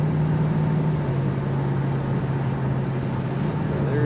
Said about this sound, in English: Very nice rumble to this car.